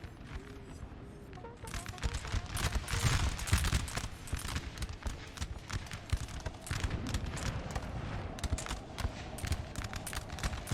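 Musket fire from Swedish skirmishers in the video game Napoleonic Total War 3 crackles as scattered, irregular shots over a busy battle bed of distant rumble and clatter, moderately loud throughout.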